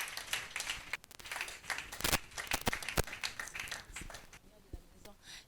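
A church conference audience claps and cheers in scattered, uneven bursts, some sharp close claps over a softer spread of hands, fairly faint overall and tapering off at the end.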